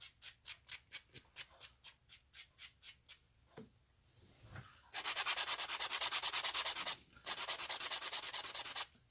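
A file bevels the free edge of a fingernail into an oval: about a dozen separate rhythmic scraping strokes, a short pause, then fast continuous rasping, close and clear with no voices.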